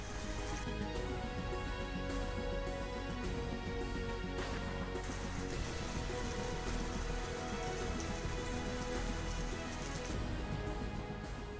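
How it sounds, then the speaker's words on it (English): Steady rain pours across the open Liuwa Plains grassland of Zambia, a dense, continuous patter of drops hitting the ground that stays loud and even throughout, with no voices. "the first drops of rain begin to fall on the Lelewa Plains, Zambia"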